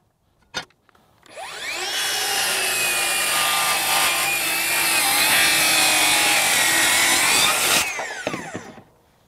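A Ryobi 18V brushless 7-1/4 inch circular saw cutting 2x lumber at a 45 degree bevel: a sharp click, then a loud, sustained whining cut for about six seconds that spins down at the end.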